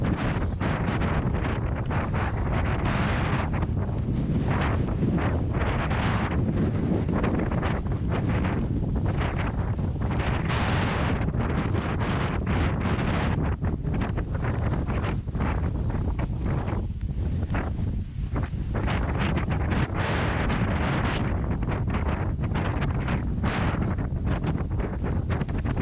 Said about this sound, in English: From this point on, up and over the summit of Washington, the winds were at their absolute worst by far.